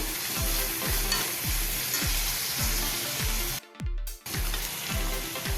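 Chopped onion and green chili sauté in a pan with a steady sizzle, while a spatula scrapes and stirs in a regular rhythm roughly every half second, pausing briefly near the end.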